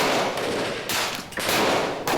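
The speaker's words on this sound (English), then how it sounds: "The captain answers this request by firing his gun at the incoming ship, which is answered with further gunfire." Gunfire rings out in a pirate ship battle at sea, several loud, sharp volleys of shots crackling in quick succession, with no talking.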